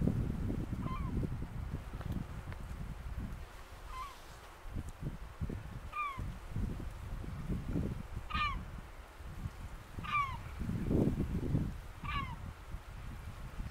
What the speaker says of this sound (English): It's hard to believe those are actually immature blackback seagulls.